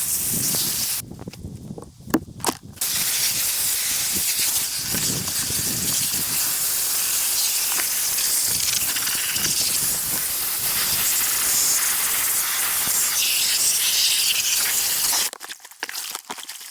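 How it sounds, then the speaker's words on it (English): Garden hose spraying water over a backpack, a loud continuous hiss and splatter broken by short pauses and shifting as the stream moves across the fabric. "now we're going to rinse it off with the hose"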